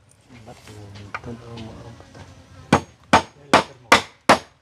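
Hammer blows drive nails into a bahay kubo hut on a mountaintop, five sharp, evenly spaced strikes following a stretch of people talking nearby.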